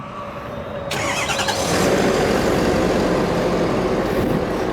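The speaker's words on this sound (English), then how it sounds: "Just basically hit lock and hit the remote start button twice." A 2012 Ford F250 Super Duty Lariat with a Powerstroke diesel engine starts by remote, a quiet pause followed by a sudden loud turnover settling into a steady, rumbling diesel idle close by.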